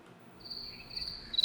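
Crickets chirping from a soundboard effect, a steady high-pitched trill that comes in partway through and holds at moderate loudness over a faint background.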